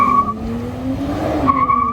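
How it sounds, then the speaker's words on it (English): Tires of a Nissan 400Z squeal as the wheels spin under hard acceleration, with a sharp, high skidding tone broken briefly in the middle over a rising engine note, loud and close. "when you start accelerating the cars in a race mode or something like that, the wheels start spinning at the same place as you have, like you're doing a burnout"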